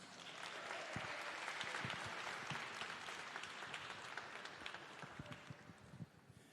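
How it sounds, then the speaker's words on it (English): Conference audience at the Rainbow PUSH Annual Conference giving a sustained round of applause, dense clapping from a large crowd that holds steady and then thins slightly toward the end, with no speech over it. "Let's give brother CEO and President Louis Carr a round of applause."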